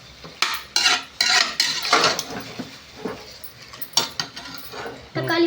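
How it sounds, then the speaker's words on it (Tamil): Metal cooking vessels scrubbed and washed in a home kitchen, close and loud, with repeated bursts of scraping, clanking and rattling metal. "பாருங்க பத்து விளக்குறாங்க"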